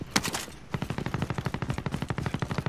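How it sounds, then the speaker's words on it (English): Close-range gunfire in Warzone: a short opening burst, then a long, steady stream of rapid automatic shots, each crack sharp and evenly spaced. "Oh, they're shooting pretty close."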